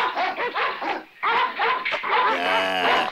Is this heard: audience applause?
no